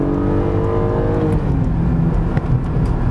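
A Porsche 718 Boxster/Cayman GTS 4.0 naturally aspirated 4-liter flat-six engine revs steadily at high pitch toward 7,800 RPM, sustained and loud, with a smooth rising tone and no voices.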